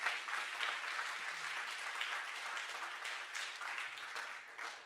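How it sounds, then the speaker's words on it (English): An audience at a high school pitch competition applauds partners with a steady, fairly faint wash of clapping that holds evenly and tapers slightly at the end. "please, a big round of applause"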